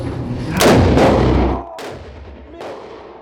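A single loud, close gunshot from a blind shooter booms and decays with a long rumbling echo, followed by fainter thumping reverberations.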